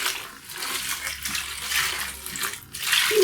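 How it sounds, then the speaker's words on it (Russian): Water pours into a container of dahlia tubers set to soak, a steady close rushing and splashing with small fluctuations throughout. "Наливаем воды."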